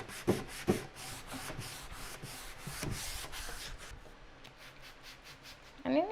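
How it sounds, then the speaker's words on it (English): Light sanding of chalk-painted wood with wet sandpaper for a faux driftwood finish, a close, quiet rhythmic rubbing in repeated back-and-forth strokes, with a few louder scrapes and a brief handling noise near the end. "We're gonna do a light sanding."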